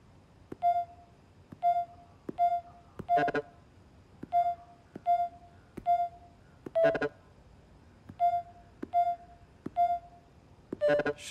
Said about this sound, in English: Keys play different notes. Maybe the code's a song?